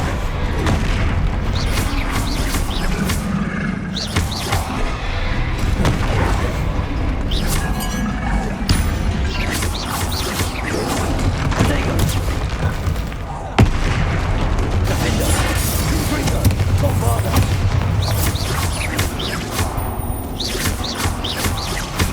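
Explosive spell blasts, Confringo fire bolts in Hogwarts Legacy combat, boom repeatedly through a dense, continuous wall of battle noise, with heavy low rumble, sharp impacts and layered effects running the whole time.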